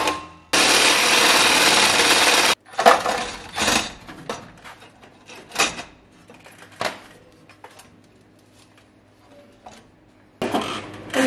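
A power tool cutting through the exhaust pipe just ahead of the catalytic converter weld on a Lexus IS F, one loud, steady two-second grinding burst followed by scattered metallic knocks and scraping, then a brief final cut.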